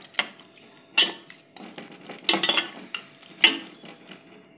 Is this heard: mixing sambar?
yes